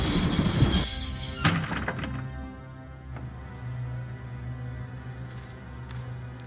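A train grinding to a halt in the Broken Sword adventure game: a loud metallic rumble with a heavy thunk and brake squeal early on, fading into a low steady hum.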